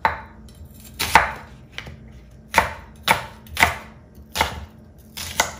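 A knife chops half of a medium or large onion into strips on a cutting board, with about eight crisp, separate strokes at an irregular pace, close and clear with no talking.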